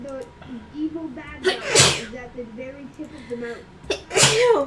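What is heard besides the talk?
sneeze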